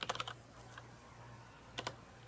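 Short bursts of clicky mechanical keyboard typing, a quick cluster of keystrokes at the start and a couple more later, close up over a steady low hum with quiet gaps between.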